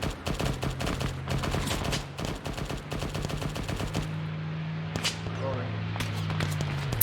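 Rapid bursts of machine gun fire in a WWII desert battle video game, dense and continuous across the clip with a sustained low engine-like drone beneath, loud and close.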